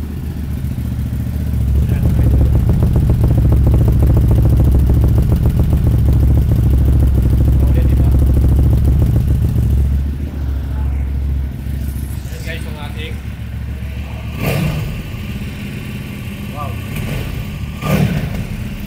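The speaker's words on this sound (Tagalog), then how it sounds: "Ganda ng tunog, no? Kasi nga, B-twin engine." A 2026 QJ Motors SRV 400VS V-twin motorcycle starts up and idles loudly with a deep, throbbing exhaust note for about ten seconds, then settles to a quieter rumble while someone talks over it.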